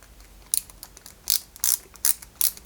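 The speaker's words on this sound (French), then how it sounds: "on visse du métal sur du métal" A metal screw is driven into a metal part of a Ferrari 330 P4 scale model, producing five short, sharp ratcheting clicks at uneven intervals, close and fairly quiet against a faint background.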